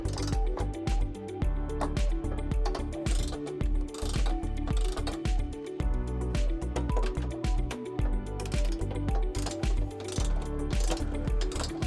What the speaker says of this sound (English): we're gonna go ahead and torque it according to the manufacturer's specification